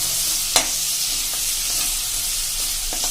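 Ginger paste sautéing in hot oil over a slow-to-medium flame for a Punjabi potato and capsicum curry, a constant close hissing sizzle with a few faint scrapes of a stirring spoon.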